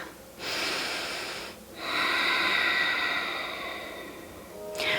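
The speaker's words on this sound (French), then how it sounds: "Inspire et expire." Slow, audible breaths during a yoga flow, a long inhale and a long exhale through the nose, close and alone, with a pause between them.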